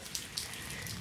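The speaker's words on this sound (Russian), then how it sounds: "Лучше, конечно, чтобы дождик был поменьше." Light rain falling outdoors on grass during a search for nightcrawlers, a soft steady patter with a couple of louder drops, no voices.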